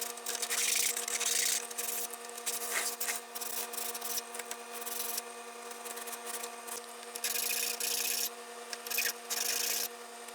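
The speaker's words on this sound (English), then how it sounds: "Do this with some sandpaper, just get that smoothed out a little bit." Sandpaper rubs across an N-scale model railroad bridge in steady, close, scratchy strokes, coming in uneven bursts with brief pauses between them.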